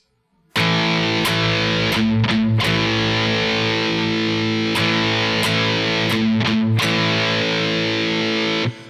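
A loud, distorted electric guitar chugs through a punk riff, sustained power chords broken by short muted stops and restarts, played alone.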